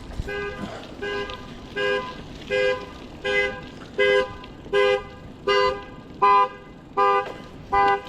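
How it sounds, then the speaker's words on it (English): A car alarm blares in a steady repeating pattern of loud electronic tones, roughly one burst per second, sounding close by with no talking. "Their alarm started going off"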